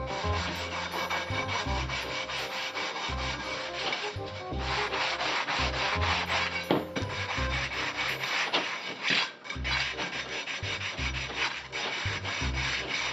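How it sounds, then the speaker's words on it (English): A wet medium-grit sanding block rubs back and forth over a three-piece wheel lip in steady, rhythmic strokes, a close, gritty scraping that repeats without pause and with no talking. "take my medium grit sanding block, wet it in the water, then I'm just gonna go ahead and just start sanding"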